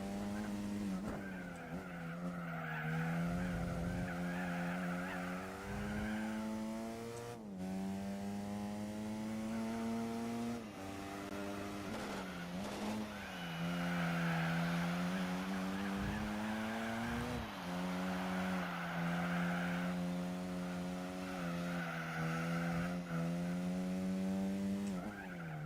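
Race car engine in Gran Turismo 4 under nitrous boost, a continuous loud high-revving drone climbing in pitch through gears with brief shift dips, steady and upfront throughout.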